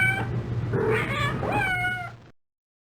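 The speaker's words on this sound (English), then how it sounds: "Cat" A cartoon cat meows in a 1993 PC game, two drawn-out, wavering meows close up and clear, the second rising then falling before the sound cuts off.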